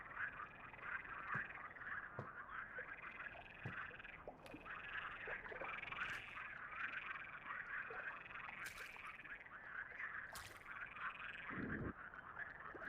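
Frogs croaking in the video game The Cursed Forest, a dense continuous chorus of rapid, raspy calls in rhythmic pulses, with occasional faint knocks and splashes beneath.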